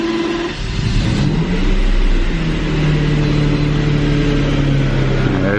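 A Porsche Boxster with the original 6-speed manual cranks and fires up, its engine rising in pitch and then settling into a steady, loud idle with a sustained tonal hum, close by.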